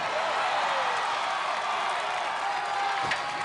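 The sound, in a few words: crowd cheering as athlete clears walking bar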